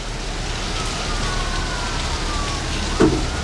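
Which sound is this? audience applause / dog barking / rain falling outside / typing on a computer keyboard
rain falling outside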